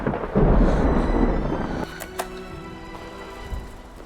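Deep, loud rumble of thunder from a lightning strike rolls through the first two seconds, then fades into a quieter tail with a few faint cracks.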